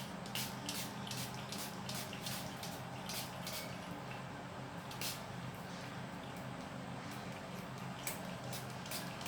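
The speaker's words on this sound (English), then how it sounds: "spray this all over your face" A vitamin C facial toner is sprayed over a face in a quiet room: a series of soft, hissing mist bursts in quick succession, faint and close, with no talking.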